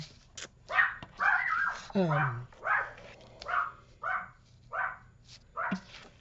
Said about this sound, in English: I'll see what Sadie's barking at